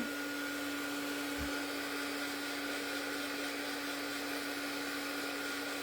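A hair dryer blows a steady, even whir over a painted art journal page, with a single soft bump early on and no talking.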